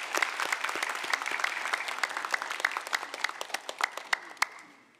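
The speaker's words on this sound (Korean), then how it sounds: "우리 박수로 환영하도록 하겠습니다" A church congregation applauds to welcome a newcomer at a Sunday service, a warm, steady round of clapping that thins out and stops after about five seconds.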